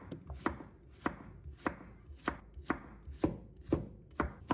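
A knife slices garlic cloves on a cutting board in a quick, even series of about a dozen crisp, close chops, with no talking.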